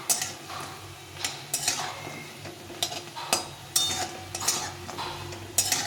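Besan fritters (bora) frying in a pan for a raw banana and potato curry, with a soft sizzle under repeated metal clinks and scrapes of a spatula stirring and turning them, close and without talk.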